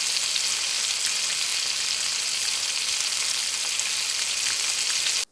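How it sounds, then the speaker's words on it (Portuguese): Food frying in a pan, a continuous dense sizzle with faint crackles, steady and close, cutting off abruptly at the end. "Preparando alguma coisa na frigideira."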